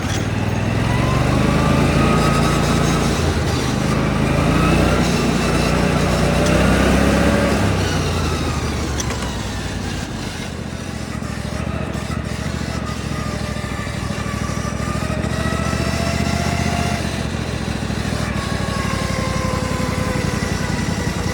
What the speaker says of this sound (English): This idle is so much better than my other racing mower.